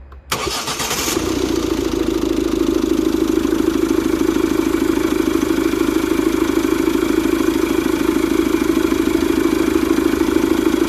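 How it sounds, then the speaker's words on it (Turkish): A Ford Focus engine fitted with a performance air filter cranks and catches, then settles into a steady, loud, close idle with a constant droning hum and slight induction roar. "Marşa bastığım zaman sesini ve gaz verdiğimdeki sesini duyacaksınız arkadaşlar."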